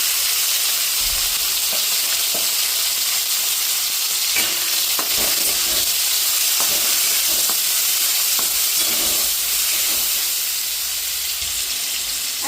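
Curry leaves and tomatoes frying in a pan give a steady loud sizzle with hiss throughout, broken by occasional stirring clinks; no talking.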